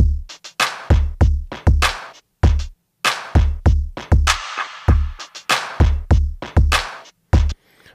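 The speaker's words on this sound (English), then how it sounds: "And that combines with the kick and two claps, it sounds like this." A drum pattern layering a sampled breakbeat with a low cut, a kick and two claps, playing as a steady, loud, punchy groove of repeated hits alone with no voices.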